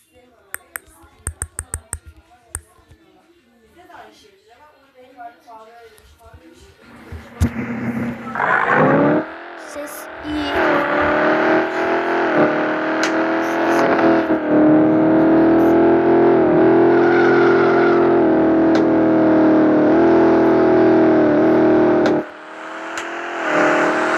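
In a car-swapping video game, a car engine revs hard and holds a loud, distorted, high whine as it pushes toward 300 km/h. A voice is heard briefly before the engine comes in.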